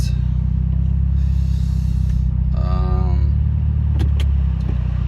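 Steady low rumble of a 2009 BMW 135i convertible cabin with the air conditioning blowing throughout, a constant broadband hiss over the engine and road drone, with a couple of brief higher-pitched squeaks near the end.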